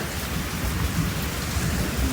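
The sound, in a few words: heavy rain with thunder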